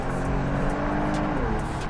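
A Kia Stinger GT on a race track, its engine note loud and steady from inside the cabin under hard throttle, with a few faint clicks and no speech.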